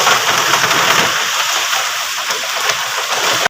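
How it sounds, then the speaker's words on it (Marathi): Heavy rain pours down outdoors in a loud, dense, steady hiss of drops that carries on without a break from start to finish, with no voices over it. "एवढा मस्त पाऊस पडतोय"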